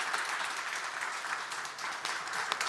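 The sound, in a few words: audience applause for panel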